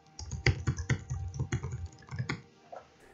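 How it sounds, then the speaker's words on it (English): Steady, quick typing on a Dell G7 15 laptop keyboard, a dense run of soft close clicks and taps that slows and trails off at the end. "This is what it's like when you're typing."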